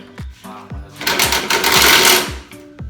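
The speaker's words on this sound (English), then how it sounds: "Go grab another ratchet and I'll work on the other side." A power ratchet buzzes in short rapid bursts while loosening bolts on a car, a mechanical chattering whir with a clicking rhythm, loud and close, rising for a sustained run in the middle.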